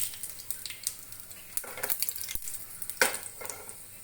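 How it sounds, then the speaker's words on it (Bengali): Garlic frying in a pan gives a soft, continuous sizzle with occasional stirring scrapes and a few sharper clicks, close but fairly quiet, with no voices. "এটা ভাজা ভাজা হয়ে গেছে"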